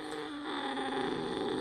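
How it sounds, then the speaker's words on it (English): A blind cat purrs and growls at once, a continuous close rumbling drone with a rougher growling edge that swells slightly toward the end. "That was a purr and a growl at the same time."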